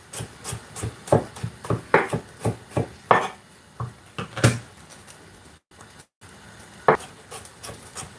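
A kitchen knife chopping garlic and vegetables on a wooden board for a potato salad with king prawns, a run of about a dozen crisp close cuts in uneven rhythm, then a brief pause and one final chop.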